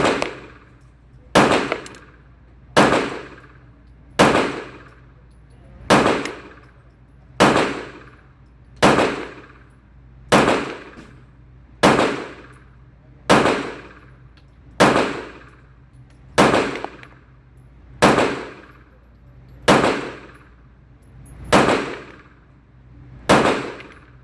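A Staccato P pistol firing at a range, a steady series of about seventeen sharp, loud gunshots spaced roughly a second and a half apart, each with a brief decaying echo, no voices.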